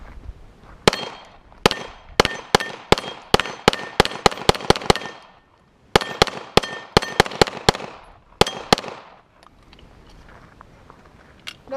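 Rapid pistol fire from a Canik TP9SFX 9mm emptying a full magazine: two fast strings of sharp, loud shots, each burst of a dozen or more evenly spaced cracks, separated by a brief pause, with a few slower shots trailing off.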